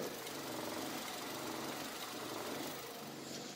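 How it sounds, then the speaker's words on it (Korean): A Hyundai Avante Hybrid HD engine idles with a steady, low hum continuously, a faint fan whirring over it, quiet and even throughout with no voices. "엔진 소음 먼저 들려드리면은"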